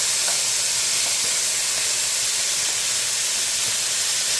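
Pieces of pork hit very hot, smoking oil for a red curry, giving a loud, constant hiss of frying that holds steady throughout with no voices.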